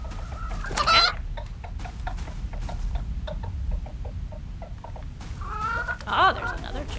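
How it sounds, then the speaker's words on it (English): Chicken clucking in a video game set in a witch's Baba Yaga hut in the woods, two short bursts of clucks over a quiet ambient background. "Oh, there's another chicken."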